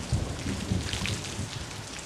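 Steady rain hisses and patters throughout a scene from Star Wars: The Last Jedi, with a low rumble underneath that may be distant thunder, continuous and fairly loud with no voices.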